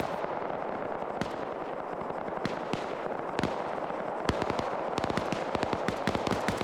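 Video game gunfire in a tactical shooter battle: sharp shots crack out irregularly at first, then cluster into rapid bursts near the end over a steady wash of background battle noise, with no speech.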